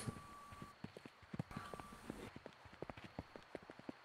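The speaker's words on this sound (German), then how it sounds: "Ich höre ihn irgendwo rennen." Player character running in the survival video game Miscreated, a quick series of sharp, evenly spaced footfalls, fairly faint, with a thin steady tone in the background.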